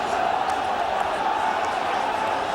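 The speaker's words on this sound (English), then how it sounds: "That really has got the crowd buzzing now." Dense crowd murmur at a 1984/85 Everton football match, a steady, continuous buzz of many voices filling the stadium at even loudness, with no distinct cheers standing out.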